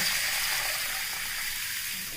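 Water gushes and hisses steadily while green gram (pasi payaru) is rinsed, a continuous wash of splashing with a voice briefly heard.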